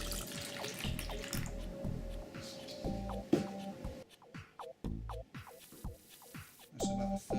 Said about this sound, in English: now we're going to add the water to the mix of the 3 eggs